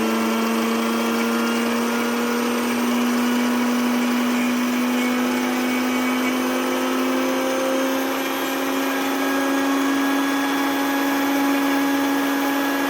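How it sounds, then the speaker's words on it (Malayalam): An electric mixer grinder whirs at full speed as it blends egg, salt, garlic and vinegar into mayonnaise, a loud steady motor drone that holds constant from start to finish without speech. "ഇനി ഇതിൻ്റെ അകത്തോട്ട് മുട്ടയും നമ്മൾ ഉപ്പും വെളുത്തുള്ളിയും വിനീഗറും ഇട്ട് നമുക്കിതൊന്ന് അടിച്ചെടുക്കാം. മിക്സിയിലിട്ട് അടിച്ചെടുക്കാം."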